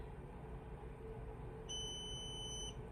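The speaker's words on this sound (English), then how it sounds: "the beeping thing is annoying" A high electronic beep from a Bai Mirror multi-needle embroidery machine sounds once for about a second over a steady low hum, with no talking.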